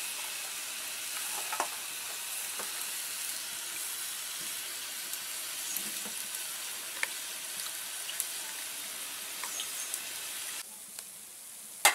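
Fish cooking in a kadai with water gives a steady, faint sizzling hiss, broken now and then by small clicks and taps.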